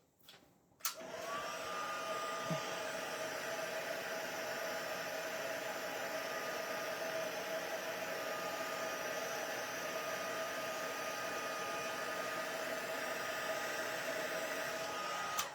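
Heat gun for embossing powder, used in a papercraft setting, starts with a sharp click and then blows a loud, steady whooshing roar that holds unbroken for about fifteen seconds, with a faint whine riding on top and no talking.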